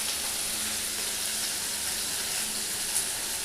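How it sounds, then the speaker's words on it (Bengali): Spices sautéing in a pan give a steady, close hiss of sizzling and frying that runs without break, with no talk over it. "মশলা কষানোর সময়"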